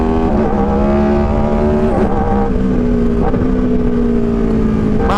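Onboard sound of a Grip race car driving on a track: a loud, buzzing engine drone with strong harmonics that rises and falls in pitch through gear changes, close and continuous with no speech.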